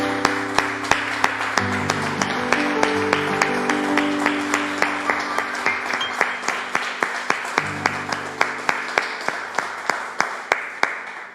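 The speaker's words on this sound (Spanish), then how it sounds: "Le damos un aplauso al Señor" Church congregation clapping in a steady, regular beat over sustained keyboard or organ chords, the rhythmic hand claps continuing evenly for about eleven seconds.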